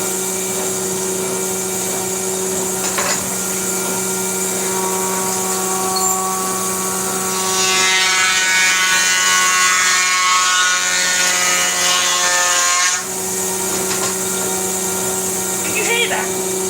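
A planer thicknesser with blades in need of sharpening runs with a steady motor whine, then grows louder and rougher for several seconds as a piece of wood passes through, before settling back to idling.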